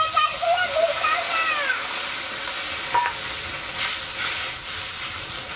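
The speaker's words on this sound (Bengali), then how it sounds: "এবার দিয়ে দিচ্ছি নারকেলের দুধ।" Coconut milk poured into a pan of cooking prawn curry masala, a steady bright sizzle and bubbling with some stirring and splashes, fairly close and continuous.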